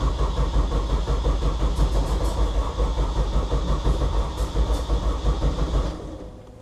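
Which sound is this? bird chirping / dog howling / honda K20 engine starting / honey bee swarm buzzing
honda K20 engine starting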